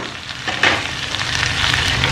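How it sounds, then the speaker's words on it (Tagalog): Smoked fish (tinapa) and bamboo shoots sauté in hot oil, giving a steady, close sizzle with soft stirring scrapes that build slightly toward the end. "gisa ko muna yan guys"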